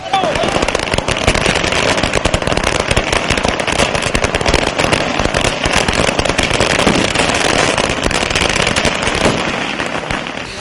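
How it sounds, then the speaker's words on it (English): Dense fireworks and firecrackers crackle and bang nonstop at a BJP victory celebration in Lucknow, Uttar Pradesh, a loud continuous barrage of rapid pops with drum beating lost in the din. "the beating of drums and the bang of fireworks heralded the BJP's victory"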